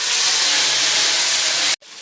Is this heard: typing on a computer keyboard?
no